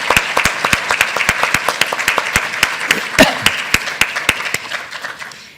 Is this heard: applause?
yes